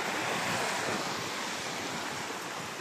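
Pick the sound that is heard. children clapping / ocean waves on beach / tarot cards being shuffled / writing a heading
ocean waves on beach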